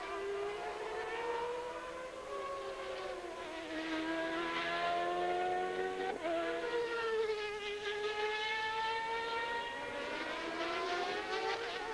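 Formula 1 engines from 1993 Portuguese Grand Prix qualifying scream steadily at high revs, their pitch rising and falling as the cars pass by. The sound is loud and continuous, with no talk over it.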